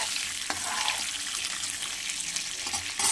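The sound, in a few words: eggplant frying lightly in oil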